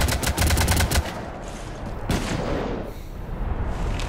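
Gunfire in the video game Mass Effect 3: a rapid burst of automatic shots, then a pause and further shots and booming impacts, loud and close with no talking.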